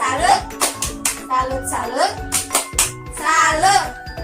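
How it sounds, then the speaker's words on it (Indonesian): Women join in a rhythmic 'tepuk salut' clap for a fellow participant at a community session on elderly care, patterned bursts of hand claps alternating with a voice talking over them. "tepuk salut buat Ibu Mahmi, tepuk salut"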